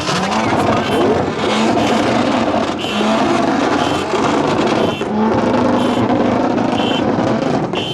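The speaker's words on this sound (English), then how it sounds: "Got a little two-step battle going on" Dense, loud crowd of car engines at a speedway parking lot, with turbo cars' two-step launch limiters crackling and popping in repeated bursts over a constant roar, a car party atmosphere.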